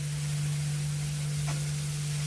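Vegetables sautéing in a pan for homemade veg potato cutlets, a steady soft sizzle with a faint stir near the middle, heard alone under a constant low electrical hum.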